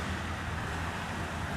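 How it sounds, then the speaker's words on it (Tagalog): Strong waves at high tide near a rocky shore, heard as a dense, steady roar of surf and wind with no breaks, loud and close, with no one speaking. "Lakas yung alon."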